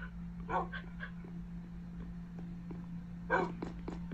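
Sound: dogs in Minecraft video game

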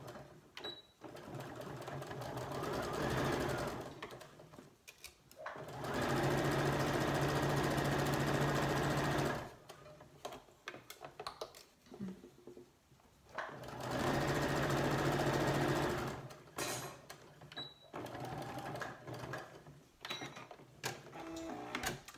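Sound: sewing machine stitching a cushion cover edge

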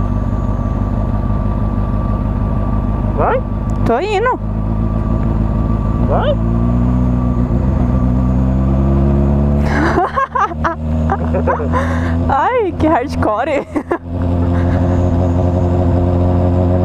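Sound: Honda Hornet motorcycle slowly accelerating

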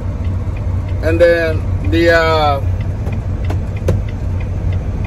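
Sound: truck driving onto frac sand scale

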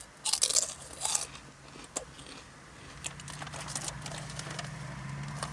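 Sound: crunching and chewing Orion O! Tube jalapeno cheese potato snack

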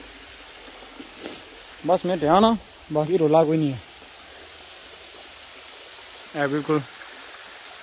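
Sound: waterfall

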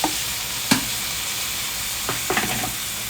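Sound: hot water poured into sizzling tomato crab gravy

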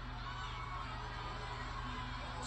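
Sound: wrestling crowd cheering for Bayley

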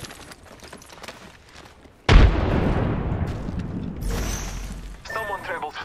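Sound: grenade explosion in video game Breach and Clear

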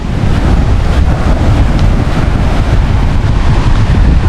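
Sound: sea waves at the shore with wind

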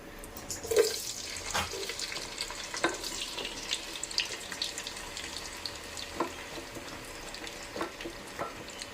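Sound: chopped tomatoes frying in hot oil

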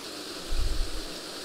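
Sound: small waterfall and white water in a trout creek

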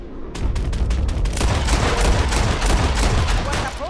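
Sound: gunshots from Red Dead Redemption 2 video game

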